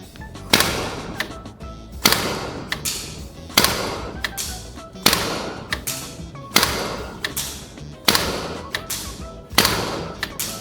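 A GHK AR airsoft gun fires seven sharp shots at a 50 meter target, one about every 1.5 seconds in a steady rhythm. Each is a close, loud thump-crack with a short tail.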